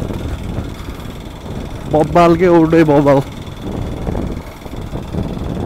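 Riding a motorbike near the Gaighat waterfall, a steady engine rumble mixes with buffeting wind noise, and someone talks briefly over it partway through.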